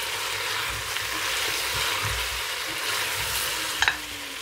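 Onions, green chillies and garam masala frying in a pan for lamb and chicken yakhni pulao, with a steady close sizzle, soft stirring scrapes and a couple of quick clinks near the end; nobody speaks.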